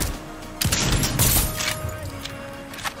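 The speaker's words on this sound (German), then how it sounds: "War der Schuss von mir, der Snipe?" A single sharp sniper rifle shot in Fortnite cracks out loud and close, trailing into a brief rumbling tail with faint background game noise.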